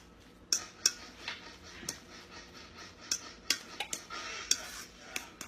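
Shredded mozzarella and Parmesan tossed together in a bowl for a gluten-free pizza, heard as a run of light scraping strokes with sharp clinks of a utensil against the bowl, fairly close and otherwise quiet.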